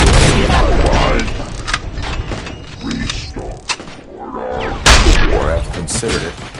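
Rapid gunfire and heavy impacts in the RoboCop: Rogue City video game, loud and dense, with repeated bursts and thuds along with a sharp blast near the end.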